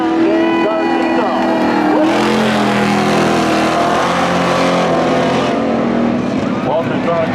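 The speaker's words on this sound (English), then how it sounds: "Charlie is strong as they roll off of 4" Cars racing a lap at Seekonk Speedway spectator drags, a loud, close engine roar that swells around the middle and then recedes, with an announcer talking over it.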